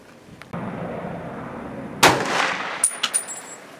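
A single sharp, loud report from an M1 Garand rifle at a 25-meter range cracks out midway, followed by a ringing, metallic clang and a few quick smaller clicks, with no talking.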